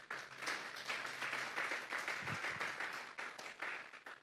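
A church congregation claps during a Sunday service, a faint, continuous wash of applause with no voices over it.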